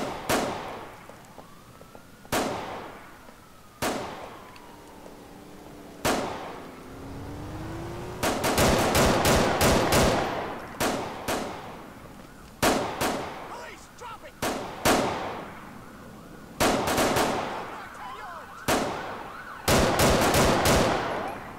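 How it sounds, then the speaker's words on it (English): Gunfire during a police patrol video game, with sharp shots and short bursts repeating through the scene, loud and close, while a siren-like tone and game effects play around them and a voice talks at times. "Shots fired."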